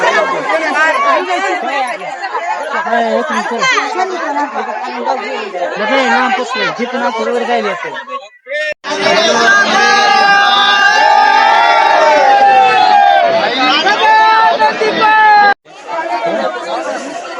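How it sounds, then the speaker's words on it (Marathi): Loud, close crowd noise fills the Tuljabhavani temple in Tuljapur: a constant wash of overlapping voices, with shouts and calls rising above it after a brief pause, while one person speaks nearby. "अशा प्रकारची इथं खूप गर्दी आहे"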